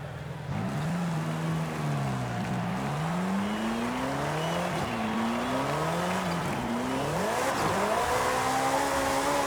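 A Ferrari F8 engine in the racing game Forza Horizon 5 revs and climbs through gears, pitch rising and dropping with each shift in a steady, loud, continuous drone with no talking.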